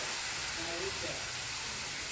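Water and jaggery heat together in a kadai for homemade mango pickle, giving a faint, steady hiss and gentle sizzle that holds evenly throughout.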